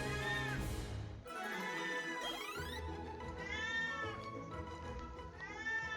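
A pet cat meows insistently up close, several long drawn-out rising and falling cries in a row, loud and clear with no talking over them.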